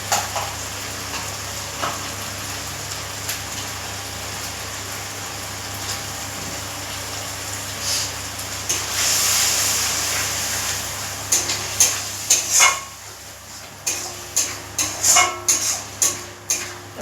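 Poppy seed and cashew paste sautés in a pan, first as a soft continuous sizzle, then as a run of rhythmic scraping stirs and clinks of a spoon against the pan growing louder toward the end.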